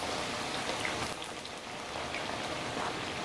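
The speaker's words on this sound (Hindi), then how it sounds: "जब आप पूरियां तेल में डालो तब आंच जो है वो हाई होनी चाहिए, तेज़ होनी चाहिए" Puris deep-frying in hot oil over high heat, a steady dense sizzle and crackle that holds at an even level through the whole stretch, with no talk.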